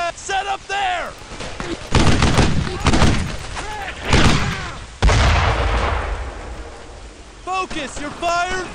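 Mortar blasts and gunfire in the WWII shooter Brothers in Arms: Earned in Blood, heavy broadband bursts and booms landing in loud waves, with soldiers' voices shouting before and after.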